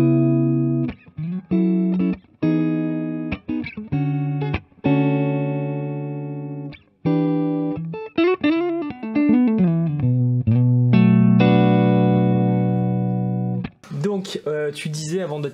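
Stratocaster electric guitar through a Kernom Ridge overdrive pedal into a Dumble-style Kelt amp, played as separate overdriven notes and chords with sustained ringing tones and brief gaps, close and clear.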